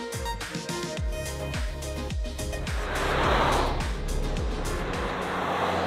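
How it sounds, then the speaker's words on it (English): A Ford Ranger Raptor dual cab ute drives on a freeway, its engine droning loudly and continuously as a series of rising revs and gear shifts repeat, with a rushing swell of road and wind noise in the middle; no talk. "I just love the fact that it's a dual cab ute that sounds, I don't know, like an M3."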